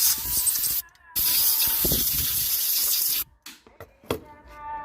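Compressed air blasts into a motorcycle carburetor with fuel inside, while it is being cleaned for a fuel leak: two loud, steady hissing bursts of about one and two seconds each, separated by brief quiet, then small clicks and handling noises.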